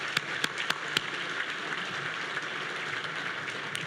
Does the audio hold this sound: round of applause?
yes